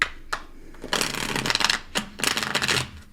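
Tarot cards being shuffled by hand in a traditional riffle style, giving three bursts of crisp rapid flutter, close and fairly loud, separated by short pauses with a small tap near the start.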